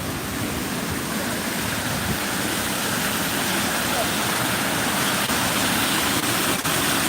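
Steady broadband rushing roar of the waterfall at Newstead Abbey on a winter walk, loud and continuous, with faint background sounds mixed in.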